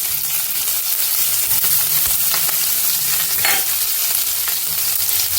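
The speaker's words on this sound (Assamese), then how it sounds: "এইফালে মোৰ কেৰাহীখন গৰম হৈছে আৰু ইয়াতে এতিয়া মই দি দিছোঁ পিঁয়াজ।" Chopped onions fry in a hot wok, giving a steady close sizzle with occasional stirring scrapes throughout and no voices.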